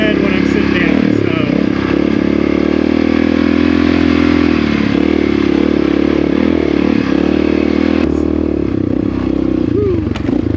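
A Honda XR650R dirt bike rides a trail with a loud, steady engine drone close by, with scrapes and clatter from the rough ground and a few small knocks near the end.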